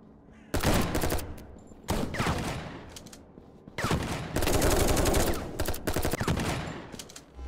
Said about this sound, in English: I shot 24 bullets.